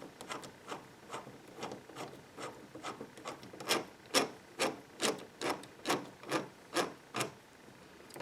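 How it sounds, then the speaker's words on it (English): Screws being driven into a door lock give a rhythmic series of about a dozen short, scratchy rasps at a steady pace, close by and fairly quiet. "so we're going to screw them down"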